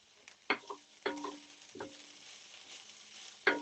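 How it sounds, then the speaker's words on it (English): Onions frying in a pan, with a soft sizzle under several sharp scraping clicks of a utensil stirring against the pan at irregular intervals, close and fairly quiet, no talking. "you're really just frying your onions to soften them"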